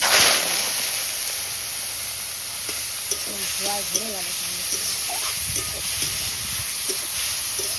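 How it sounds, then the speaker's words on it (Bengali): Prawns hit hot mustard oil in a wok with a loud initial burst of sizzle that settles into steady frying, while a person talks over it. "তেল গরম হয়ে গেছে, চিংড়ি মাছটা"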